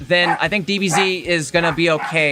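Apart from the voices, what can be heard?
dogs barking and freaking out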